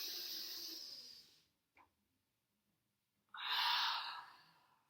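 A long, breathy exhale and later a deep inhale during a cat-cow yoga stretch, each a soft airy rush separated by a near-silent pause, close and isolated with no talking.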